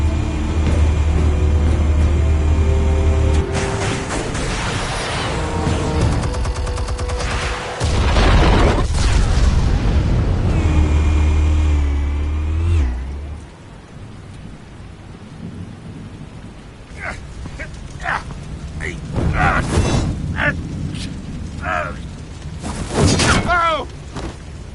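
Explosives fire in Batman: The Telltale Series with heavy rumbling booms that sustain for several seconds, followed by more scattered bangs and impacts later on, with occasional voices over the noise.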